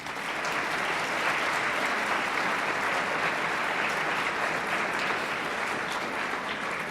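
Steady, dense applause from an auditorium audience at a state high school speech tournament awards ceremony, loud and sustained without a break.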